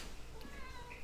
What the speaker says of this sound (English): Huh, cat?